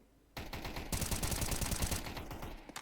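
Rapid automatic gunfire from a Counter-Strike match fires in a sustained burst after a quiet opening, dense and loud, then trails off into a few scattered shots.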